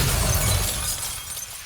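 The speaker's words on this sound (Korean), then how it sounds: "차는 제어를 잃고 경사면에 따라 굴러떨어졌다." A car loses control and tumbles down a cliff slope in a crash, heard as a loud, close burst of shattering, breaking impact noise that fades away within about a second and a half.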